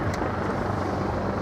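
A UK HM Coastguard search and rescue helicopter from the Prestwick base during a display, giving a loud, steady broadband rotor and engine roar close by, with a brief higher whine at the start.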